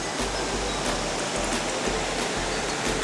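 Waterfall in Purulia pouring steadily, a continuous broadband rush of falling water heard close and alone with no talk.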